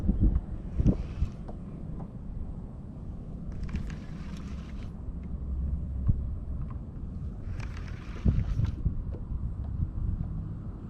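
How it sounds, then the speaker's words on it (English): Wind on a lake during a fishing trip in Florida buffets the microphone in a steady low rumble, with a few brief hissy gusts and occasional thumps. "It's freaking wind, man."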